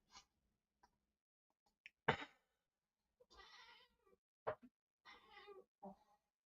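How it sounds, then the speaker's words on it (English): A cat makes sharp, scattered hisses and meow-like cries in short separate bursts against near silence, fairly faint, at night indoors. "the cat's hissing at somebody outside"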